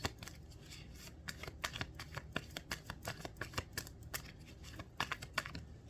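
A deck of tarot cards being shuffled by hand, a soft, steady riffling and flicking with quick crisp snaps, close and fairly quiet.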